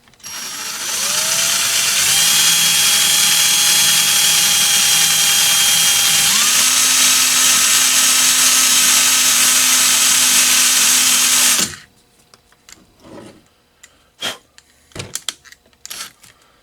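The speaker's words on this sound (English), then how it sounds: "So what I'm doing is just kind of loosely putting them in my drill." A power drill spins rusty carriage bolts to buff off the rust, a loud, steady whine that shifts pitch twice before cutting off abruptly, followed by a few scattered clanks and knocks.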